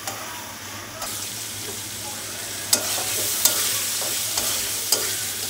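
Prawns stir-fried in a pan, a steady sizzling hiss with a few sharp scrapes and clinks of the spatula against the metal, close and moderately loud.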